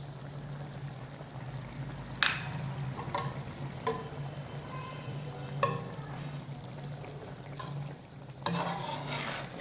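Mash dal (urad lentils) gets stirred in a pan, with a spoon scraping and knocking in sharp scattered strokes over a low, steady simmer.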